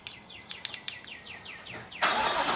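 A warm Mercedes-AMG engine is cranked and fires up after a run of bird chirps, ending in a loud, steady rush of engine noise at close range.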